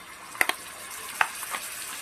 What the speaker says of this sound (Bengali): আদাটাকেও ভালো করে ভেজে নেব, যাতে আদার গন্ধটা চলে যায়